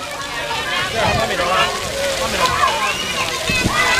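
Water splashes and sloshes continuously at a children's water play area in a theme park, with bursts of spray and patter, while voices of people nearby carry over it.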